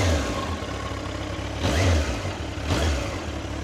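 An original Yamaha R1 motorcycle engine runs with a steady, close drone and swells twice into short revs, with no talking.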